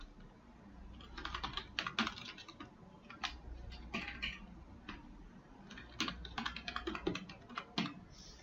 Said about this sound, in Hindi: तो इस तरह से मोबाइल नंबर टाइप कर सकते हैं।